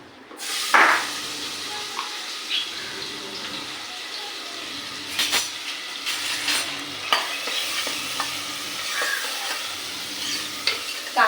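Onions and turmeric sizzling in hot oil, a steady bright hiss that runs throughout, with a sharp splash near the start and scattered clinks of stirring over the frying.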